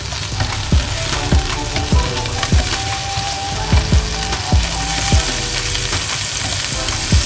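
Crab roe being stir-fried in a pan for a family New Year meal, a steady close sizzle broken by regular metallic scrapes and knocks of the spatula against the pan, with no voices over it.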